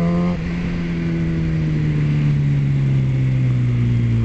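Liter bike motorcycle on the road up Haleakala accelerating to pass cars, a steady loud engine drone with a rising pitch after a brief gear change at the start, heard close through wind.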